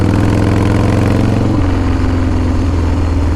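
Custom motorcycle built mostly from Harley-Davidson parts, its engine running loud and close with a deep, steady idle rumble; the pitch drops slightly partway through and then settles back into an even throb.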